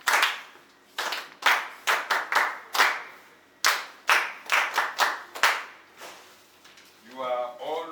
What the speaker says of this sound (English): Make una clap for una self.